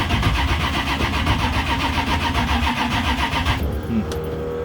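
A car engine running after a carburetor rebuild and new fuel lines, close and loud with a rapid rhythmic chug, then cutting out abruptly near the end, leaving a faint after-noise.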